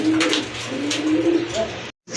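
Pigeons for sale coo close by in a continuous run of throaty, rolling calls that overlap and waver, stopping abruptly near the end before a brief resumption.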